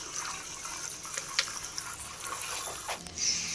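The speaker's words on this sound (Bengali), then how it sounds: "এবার আমি বেসিনটা ভালো করে পরিষ্কার করে ধুয়ে নিচ্ছি।" A bathroom basin is washed and scrubbed clean at home, running tap water splashing steadily with scattered scraping and clattering handling noises, close and moderately loud, no voices.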